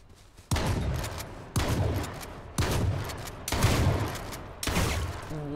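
Shotgun fire in H1Z1, five heavy blasts about a second apart, each a sharp crack followed by a rumbling tail, loud and close with no speech.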